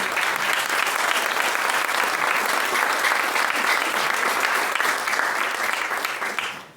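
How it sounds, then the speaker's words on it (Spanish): Loud, sustained applause from a church congregation during a sermon, steady dense clapping that tapers off at the very end. "Denle ese aplauso fuerte a Dios."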